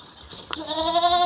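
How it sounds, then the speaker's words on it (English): A single goat lets out a loud, wavering bleat close by, after a brief click, rising and holding to the end. "If we leave those goats here today, they will keep shouting"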